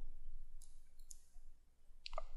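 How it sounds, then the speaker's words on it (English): A few sparse computer mouse clicks while signing an electronic contract, spaced out with a quick pair near the end, over faint room hiss. "Just double click to sign."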